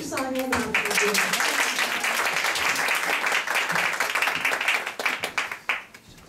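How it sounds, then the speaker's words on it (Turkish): Festival audience applauds to welcome a performer onto the stage, brisk dense clapping that holds steady and then thins into scattered claps near the end, after a brief voice at the start. "Şimdi alkışlarınızla festival katılımcılarımızdan Ceren Özkök'ü sahneye davet ediyorum."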